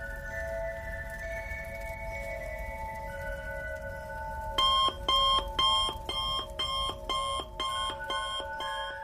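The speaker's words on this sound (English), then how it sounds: "I woke to the sound of my alarm blaring at me." A steady electronic tone hums, then an alarm clock starts beeping in rapid repeating bursts, loud and insistent, sounding alone.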